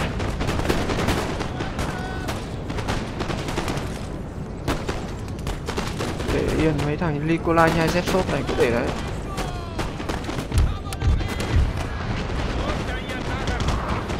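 Musket volleys and artillery fire from a Napoleonic battle in the strategy video game Napoleon Total War, with dense crackling gunshots and booming cannon blasts that continue steadily while someone talks over them.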